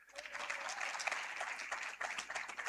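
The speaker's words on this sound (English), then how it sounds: "Another big round of applause." Audience applause at a youth indaba event, a sustained crowd of many hands clapping at a moderate distance, fairly quiet and even, with faint voices mixed in.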